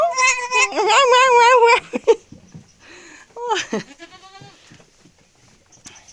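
A goat bleats loudly and wavering up close, then a second shorter bleat follows after a pause, with quieter rustling in between.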